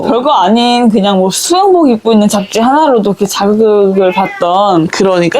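A house cat meowing indoors, its plaintive cries mingling with two people chatting in Korean close by.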